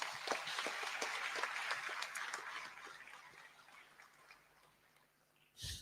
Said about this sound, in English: I think a round of applause is in order.